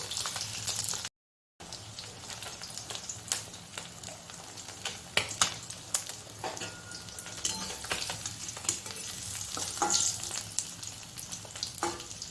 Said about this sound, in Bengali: গ্যাসে জোর নেই বলে কত টাইম লাগছে মাছটা ভাজতে।